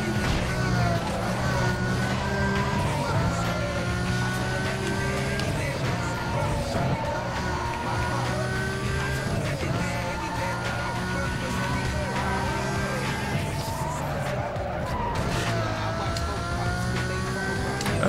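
A Mercedes SLR races past in the 2005 racing game Need for Speed Most Wanted: a loud, steady engine roar with shifting tonal whine that holds throughout, blended with other game sounds.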